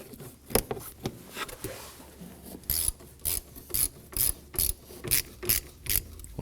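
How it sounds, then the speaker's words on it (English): Ratcheting tool tightening a hose clamp on the throttle body of a 2016-2020 Kia Sorento 2.4L L4, giving a close, steady series of about eight crisp clicking bursts with no talking. "And now we go ahead and tighten our clamp."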